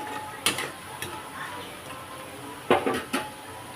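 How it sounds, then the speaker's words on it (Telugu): Onions frying in a pan until reddish, with a soft steady sizzle under sharp scrapes and clinks of a spatula stirring against the pan. "ఈ ఆనియన్స్ అంతా రెడ్డీగా వచ్చే వరకు వేగాలి"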